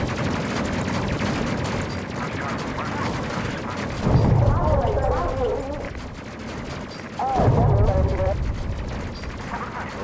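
Repeated heavy railgun volleys and booming impacts in a space crew video game battle against a Phasmid mothership, dense mechanical bursts swelling twice, with voices talking throughout.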